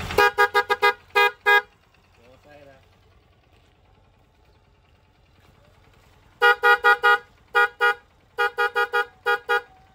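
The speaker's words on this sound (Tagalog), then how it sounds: "Pag ang busina yung naging tunog pandesal, ibig sabihin isa lang ang gumagana sa kanya." A car's dual horn honks in rapid bursts of short, loud beeps, only one horn working, a quiet stretch with faint low rumble in between, then another volley of honks.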